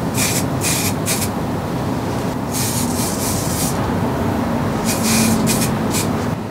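Hair spray hissing onto a section of a wig in bursts, several short and long sprays close up over a steady background rush, no talking.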